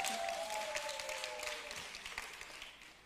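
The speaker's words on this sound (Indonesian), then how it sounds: "Mari kita beri tepuk tangan buat Tuhan Yesus Kristus" A church congregation claps in praise during a worship service, a faint, steady patter of many hands with a held musical tone running beneath it, gradually thinning out.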